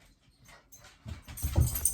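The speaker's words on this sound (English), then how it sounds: "that's my puppy right there" A five-year-old small pet dog whimpers indoors, with soft snuffling noises building into louder, close whining and whimpering toward the end and no talking.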